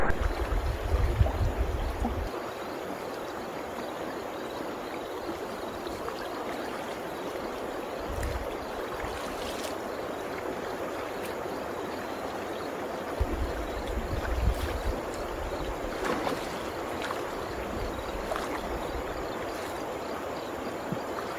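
A hidden creek on rural off-grid land in California flows steadily throughout, a constant rushing babble with a few low thumps and splashes nearby, and no talking.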